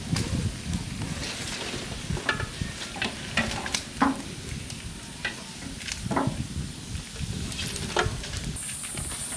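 Broiler chicken pieces fry and get stirred in a large pan over a village cooking fire, a steady close sizzle broken by repeated scraping stirs throughout, with no talking.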